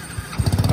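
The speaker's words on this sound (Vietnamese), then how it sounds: "Em sẽ nổ máy lại lần nữa." A Honda Cub MD motorcycle used for hauling goods in Tay Ninh starts up, its engine catching after a brief crank and settling into a close, pulsing putter.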